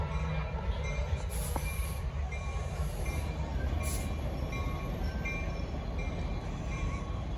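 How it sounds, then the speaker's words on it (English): Train departing a station in Sacramento, a steady continuous rumble of wheels and cars with faint high squeals early on, moderately distant and unbroken. "I just missed the train. It's leaving right now."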